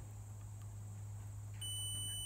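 A multimeter continuity tester beeps a steady electronic tone near the end while probing the wiring on a Farmall 560 tractor, over a constant low electrical hum.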